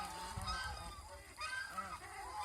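Geese on a goose farm at Mohanganj honk repeatedly from a short distance, their calls overlapping in an uneven chorus with no talking.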